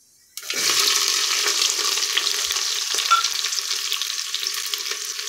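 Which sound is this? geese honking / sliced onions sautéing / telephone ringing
sliced onions sautéing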